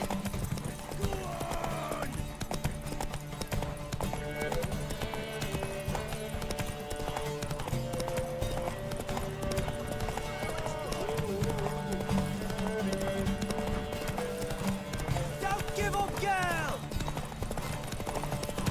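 Rhythmic hoofbeats of a galloping horse in The Witcher 3: Wild Hunt clatter steadily over game music, with a horse whinny and voices talking over the action.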